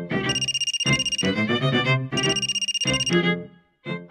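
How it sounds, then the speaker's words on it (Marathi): Mobile phone ringtone playing loudly and close, a repeating electronic melody that rings through two full cycles and starts a third before the clip ends. "फोन वाजतोय"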